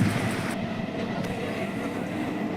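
A passenger train pulls into Bidhannagar Road station in West Bengal, a close, steady rumble of wheels and carriages rolling on the rails, with a few faint clicks over the continuous roar.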